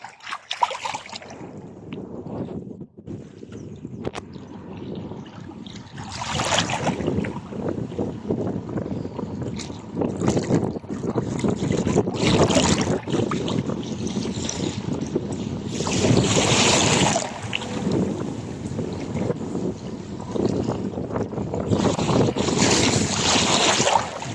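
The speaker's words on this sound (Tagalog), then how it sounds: "Baliwala yung init dahil sa malakas yung hangin" Strong wind roars steadily across the microphone at a beach resort, with water and a boat's rumble underneath; loud and continuous throughout.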